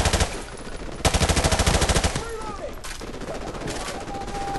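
Rapid automatic gunfire in Modern Warfare Remastered, loud bursts of closely spaced shots with a long sustained burst near the start, then scattered fire and battle noise continuing beneath.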